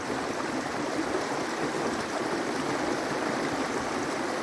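A stream in New Zealand flows with a steady, close, broadband rush of water that stays constant throughout, with no voices.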